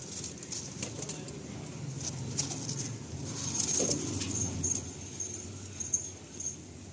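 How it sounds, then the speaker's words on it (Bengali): A male Madrasi pigeon coos softly in low murmurs under a faint, steady outdoor hiss, with light rustles and scattered high chirps from other birds nearby. "এই হলো পায়রাটা, নর পায়রা।"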